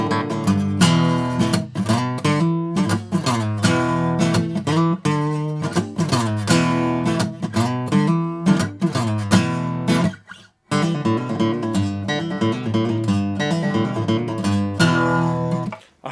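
A guitar plays a lick through a chord progression, with bright picked notes and strummed chords in a quick, continuous rhythm, loud and close, pausing briefly midway before carrying on.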